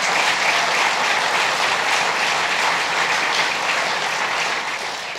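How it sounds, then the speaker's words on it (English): Sustained applause from a large audience at a public announcement event in Batavia, a dense steady wash of clapping that holds strong for about five seconds before easing slightly at the end. "Let's give him a round of applause."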